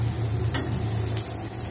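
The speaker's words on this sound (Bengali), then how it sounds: "আদাটা একটু ভাজা ভাজা হলে" Ginger sizzling in hot oil in a pan along with bitter gourd and slit green chilli for a summer dal, a steady close frying hiss with faint stirring and a low hum underneath.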